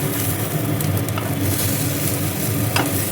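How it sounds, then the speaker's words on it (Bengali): An egg frying in a pan, a loud continuous close sizzle with faint crackles and a brief clink near the end, no talking. "আর এদিকে ডিম ভাজা হচ্ছে।"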